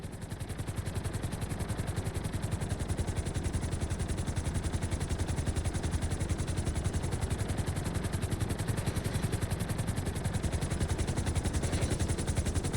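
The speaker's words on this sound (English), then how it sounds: "Bring the helicopter down gently onto the helipad." Steady rhythmic rotor chop of a helicopter in the video game GTA 5, loud and constant throughout, with a dense whirring engine drone underneath.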